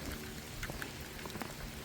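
Steady rain falls outdoors at night, a dense even hiss with scattered sharper drops tapping nearby surfaces, no voices.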